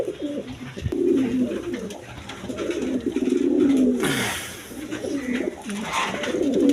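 A pair of Maltese pigeons coo nearby in repeated low, rolling calls, with a brief rustle midway and continuous soft cooing throughout.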